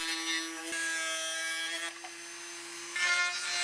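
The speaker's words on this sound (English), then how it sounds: "I use pilot holes and a rotary cutting disc to remove the excess material." A high-speed rotary cutting disc whines steadily as it cuts through a model airplane cowl, a bright grinding buzz with brief pauses and shifts in pitch.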